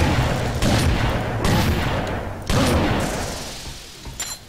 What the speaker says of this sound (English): Shotgun does come in handy